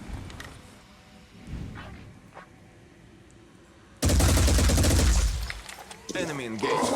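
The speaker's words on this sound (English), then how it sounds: "we'll hit him with the big gun" Heavy weapon firing in the turn-based game Phoenix Point: a sudden loud, dense burst of automatic gunfire cuts in after quieter interface sounds, followed by a second shorter burst.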